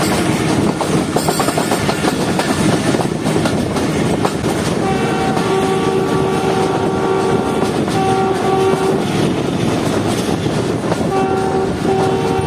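The Jaffer Express runs on a single line in Pakistan with a loud, steady rumble of wheels and carriages, and a sustained horn sounds partway through and again near the end. No one speaks.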